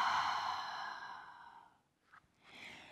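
Deep, slow breathing during a yoga lizard pose: one long audible exhale fades out, then a quieter breath starts, close and soft, with no talking.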